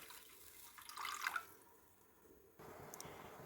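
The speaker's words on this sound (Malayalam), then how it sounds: "ഇനി നമ്മൾ ഈ മസാലക്കൂട്ടിലേക്ക് ആവശ്യത്തിന് വെള്ളം ചേർക്കുക" Water is poured into a fish curry masala for a Kerala-style fish curry, a faint splashing and trickling pour that swells briefly, then gives way to a soft, low bubbling, with no talking.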